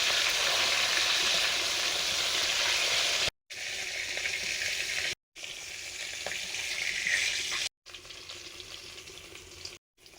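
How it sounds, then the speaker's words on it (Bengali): Rohu fish pieces fry in hot oil in a home kitchen pan, a bright, steady crackling sizzle heard close up, broken into several stretches by short silent gaps. "মাছ ভাজা হয়ে গেল"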